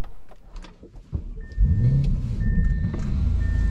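A car's engine rises and holds a steady, loud mid-pitched drone with a whining tone layered over it, close by and with no talking.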